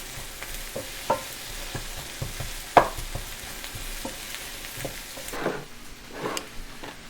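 Onions sauteing in a pan while being stirred, a steady low sizzle broken by scraping stirs and a couple of sharp utensil clacks against the pan, with the frying hiss swelling toward the end; no talking.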